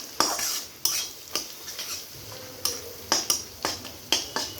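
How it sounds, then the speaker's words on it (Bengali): A metal spoon stirs egg keema and puffed rice in a pan, sharp clinks and scrapes repeating at an irregular rhythm over a faint sizzling bed, close and without talk. "এবার মিক্সড করে নেব।"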